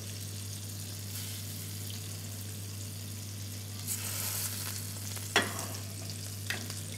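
Blanched white radish and asparagus frying in butter and oil, a soft, steady sizzle with occasional louder stirring scrapes and clicks over a constant low hum, no voices.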